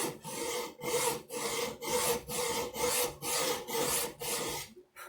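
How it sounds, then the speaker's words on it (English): Hacksaw cutting a dovetail joint, with steady back-and-forth strokes rasping about ten times at an even rhythm, close and clear, each pass separated by a brief pause. "And we'll take our hacksaw on our first line."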